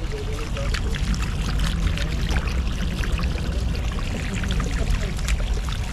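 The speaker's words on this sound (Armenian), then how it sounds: "Այս ծաղիկները դնենք ջրի տակ։" Water pours and splashes steadily onto flowers for several seconds, a close, continuous rushing spatter with no voices.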